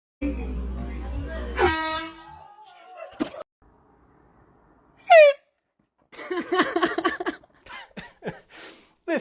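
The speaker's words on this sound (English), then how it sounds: "If any of you guys want to get an air horn like those" Prank air horn: a loud, sudden, harmonic blast near the start, then a second short blare midway, followed by startled voices and talking.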